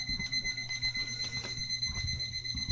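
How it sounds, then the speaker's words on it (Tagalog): Alarm clock ringing in a home, a steady series of electronic beeps with a constant high tone repeating at a regular rhythm, fairly close and moderately loud, with faint room noise beneath. "Yan ang magandang alarm."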